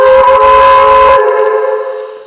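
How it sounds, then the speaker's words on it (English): A Digitrax-controlled model steam locomotive sounds a loud, steady chime whistle that is quilled, rich and breathy at first, then tapering into a thinner tone as the breathy layer cuts off. "when you quill the whistles on a Digitrax locomotive, it's pressure sensitive"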